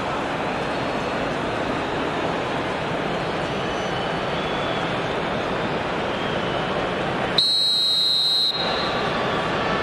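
A referee's whistle blows once for about a second during a FIFA football video game match, a shrill tone cutting through the steady roar of a stadium crowd.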